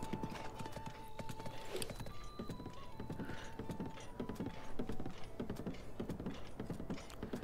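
Horse hooves clip-clop in a steady rapid gait in Zelda Breath of the Wild, running continuously over ambient game sound, with a faint whinny and tonal music in the background.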